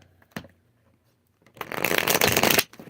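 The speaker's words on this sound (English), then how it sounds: "One more shuffle." A deck of tarot cards is riffle-shuffled close by. A single sharp tap comes first, then after a pause a loud, dense burst of fluttering card noise runs for about a second before it stops.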